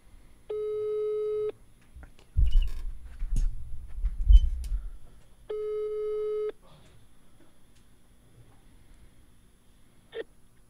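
A telephone ringback tone sounds twice, each a steady, clear one-second electronic beep a few seconds apart, with people talking quietly and rustling nearby between the rings.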